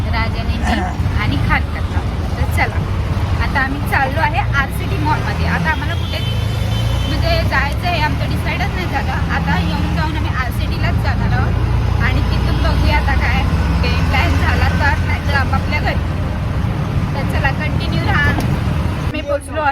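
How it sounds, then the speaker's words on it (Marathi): An auto rickshaw ride through city traffic, with a steady engine drone and road rumble, passing vehicles and occasional horns, while people talk over the noise throughout. "सवारी चालू हो गई एक जण आपल्या गाडीवरती बसलेला आहे आणि आता आम्ही रिक्षामध्ये बसलेलो आहे"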